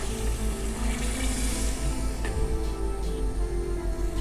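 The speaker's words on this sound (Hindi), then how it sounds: "अब 1/2 लीटर पानी डाल देंगे।" Half a litre of water poured into a pot of lentils and spices frying for masoor aloo pulao, a steady rushing splash that runs continuously at close range with no voices.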